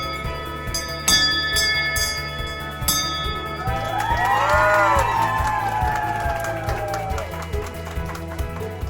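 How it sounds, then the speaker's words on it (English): A hand bell rung three times to mark the end of cancer treatment, struck as sharp separate strikes over a steady low hum, followed by a crowd of people cheering and clapping loudly. "Ring this bell 3 times well"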